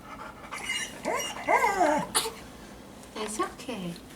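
Puppies panting and whimpering close by, with soft breathy huffs and small whines in short bursts, while people talk quietly over them.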